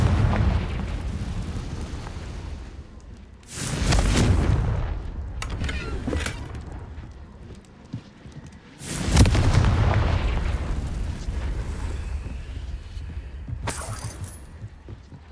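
Confringo blasting spells explode in Hogwarts Legacy as two big booming blasts with a shattering burst. Short crackling impacts fall between them and a third pop comes at the end, all over a rumbling game background.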